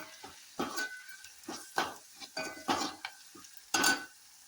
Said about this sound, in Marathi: लसूण सुद्धा छान असं परतून घेते